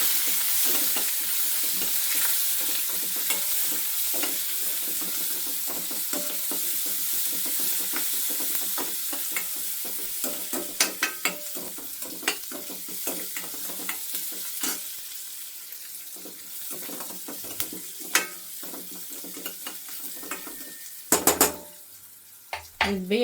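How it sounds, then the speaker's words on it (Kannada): Onion and spices sizzle in a pan with salt and turmeric for jeera pepper rice: a continuous frying hiss with frequent stirring scrapes and utensil clicks, plus a few louder pan knocks near the end. "ಉಪ್ಪು ಹಾಕ್ಕೊತಾ ಇದ್ದೀನಿ, ಅರಿಶಿನ ಹಾಕ್ಕೊಂಡಿದ್ದೀನಿ. ಇವಾಗ ಚೆನ್ನಾಗಿ ಫ್ರೈ ಆಗಲಿ."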